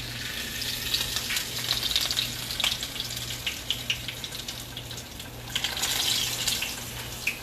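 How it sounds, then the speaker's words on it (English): Red snapper frying in a pan, a steady close sizzle and crackle with bursts of louder spitting, continuous and without voices. "So our red snapper is definitely frying up."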